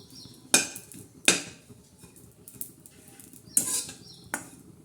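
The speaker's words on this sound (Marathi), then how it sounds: "असं मस्त असं खोबरं भाजून घेऊ" Grated coconut being dry-roasted in a pan, with a few sharp scraping clinks of a spatula against the metal over a soft, steady rustle of stirring.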